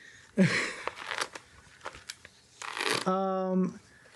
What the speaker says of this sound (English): Time to shuffle.